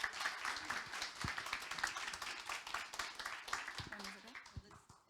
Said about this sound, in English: Give them an applause.